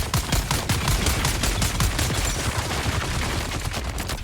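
Rapid machine gun fire in the video game Dune: Awakening, a sustained stream of closely spaced shots that stays steady and loud throughout.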